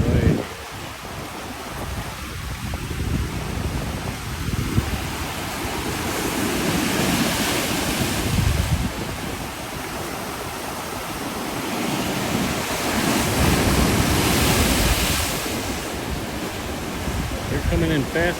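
Heavy surf breaks on a Canary Island beach in a rough sea, a continuous roar of water that swells and eases in slow surges as successive waves come in.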